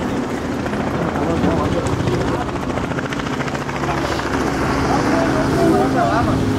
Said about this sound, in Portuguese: Ih, é um helicóptero.